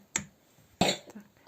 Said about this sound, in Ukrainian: Вибачаюся за задній фон, дитина захворіла, має кашель.